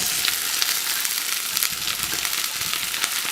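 Green beans sizzle and crackle steadily in a pan alongside leftover cooked pork knuckle, a continuous broadband fry hiss with small pops, close and moderately loud, with no talking.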